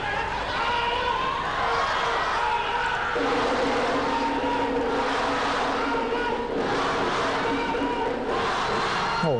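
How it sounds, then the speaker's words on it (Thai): A Thai crowd cheers at a women's club volleyball match, a sustained arena roar with rising chants and swells, a commentator talking over it. "เสียงกองเชียร์ครับ"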